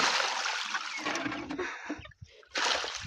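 Water tipped from a bucket into a garden bed on a goat farm splashes and sloshes in a broad wash for about two seconds, breaks off briefly, then gushes again near the microphone.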